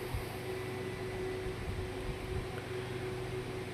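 Potato pieces frying in hot oil with cumin seeds, dried chillies and bay leaf, giving a steady, even sizzling hiss at low level with a faint background hum, no talking.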